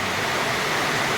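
Water flows in a canal as a steady, dense rushing hiss. It is close and continuous throughout, with no voices.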